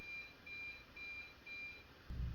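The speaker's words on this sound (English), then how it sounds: "3 beeps for 4 hours." A ceiling fan with light sounds three short, quiet electronic timer beeps, evenly spaced, against faint room hiss, with a soft thump at the end.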